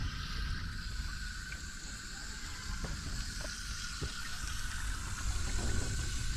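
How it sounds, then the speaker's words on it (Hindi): Water from a waterfall in a tribal hilltop village runs with a soft, continuous hissing rush that stays steady and distant, and a thin insect-like tone drones faintly above it. "झरना"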